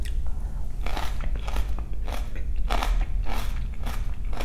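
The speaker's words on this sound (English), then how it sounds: "let me have another bite so I can describe it good for you" Crunchy kimchi being bitten and chewed close to the microphone, a series of crisp crunches repeating roughly every half second with no talk.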